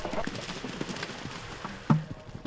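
Horses' hooves clip-clop at an international horse trials event, a steady run of moderate hoofbeats with one sharper, louder strike near the end, set against outdoor background noise.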